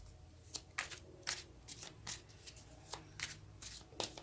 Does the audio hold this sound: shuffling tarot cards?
yes